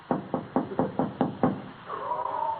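Six firm, evenly spaced knocks on a door in an old radio comedy, loud and close, followed by a muffled voice as the knocking stops.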